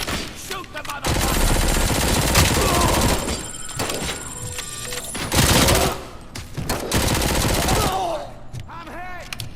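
Gunfire erupts in a firefight in the video game Robocop: Rogue City, loud sustained bursts with a pause midway, then another heavy volley, with voices shouting over parts of it.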